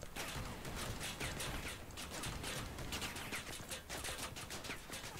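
Dense, continuous automatic gunfire from machine guns in the vehicle combat game Crossout, a loud sustained battle rattle with overlapping bursts and no voices heard.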